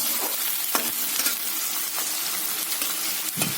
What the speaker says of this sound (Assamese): পিঁয়াজখিনি আমাৰ ভাজ খাই গৈছে ধুনীয়াকৈ